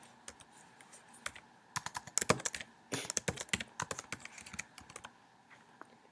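Keys clatter on a computer keyboard in irregular bursts of typing, close and fairly quiet, with short pauses between flurries.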